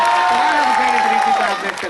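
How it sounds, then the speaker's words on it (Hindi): Audience at a mushaira poetry gathering in Katra Medniganj, Pratapgarh, applauding in a dense, steady wash of clapping and crowd noise, with a sustained voice-like tone held above it that fades near the end. "तालियों से इस्तेकबाल करें भाई"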